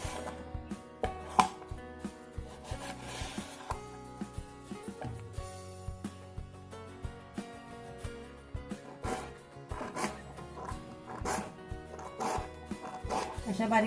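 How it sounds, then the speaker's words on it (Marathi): Firm raw mango is diced into small pieces for pickle, with sharp, irregular knife chops against a board, some louder taps standing out, while background music plays throughout. "अशा बारीक बारीक फोडी करून घ्यायच्या।"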